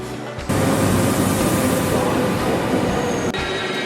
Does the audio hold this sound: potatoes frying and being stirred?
no